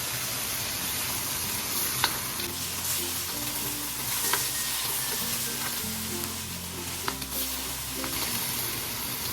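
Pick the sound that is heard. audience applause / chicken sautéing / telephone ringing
chicken sautéing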